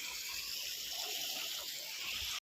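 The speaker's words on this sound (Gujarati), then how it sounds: "ચાલુ છે પાણી" Irrigation water pours steadily into a field channel, a continuous bright rushing hiss with no pauses, loud and close throughout before cutting off abruptly.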